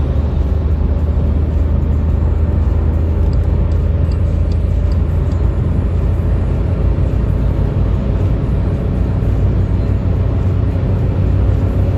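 A Skoda Fabia 1.2 TSI accelerates at full throttle in fifth gear from about 100 km/h, giving a steady, loud interior drone of engine and road noise with wind rush and no talk.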